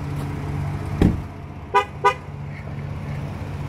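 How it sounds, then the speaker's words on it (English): A Ford Expedition SUV sounding its horn at a Ford dealership: a dull thump, then two short, clear toots in quick succession, close and fairly loud over a low engine idle. "As the horn says, this is your vehicle, come get me."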